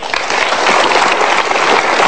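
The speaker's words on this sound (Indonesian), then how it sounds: "kita berikan tepuk tangan" A studio audience breaks into loud, dense applause at a televised motivational talk show, a steady wash of clapping lasting about two seconds with no talk over it.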